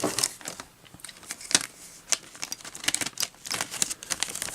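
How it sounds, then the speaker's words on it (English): A plastic bag crinkles and rustles close up in irregular bursts of crisp crackling as it is handled and folded. "So I'm going to put that back in its plastic bag."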